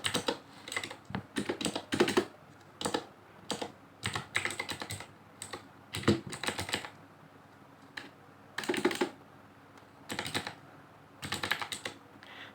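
Quick bursts of typing on a computer keyboard, clicks coming in irregular clusters with short pauses, close and clear, no speech.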